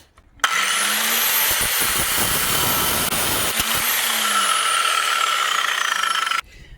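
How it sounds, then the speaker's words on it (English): An angle grinder cuts a stuck sway bar link on a 2018 Honda CR-V. It gives a loud, continuous high whine that starts abruptly, holds for about six seconds with slight pitch shifts as it bites into the metal, then stops. "I'm gonna see if I can cut it here with a grinder because it doesn't want to come out."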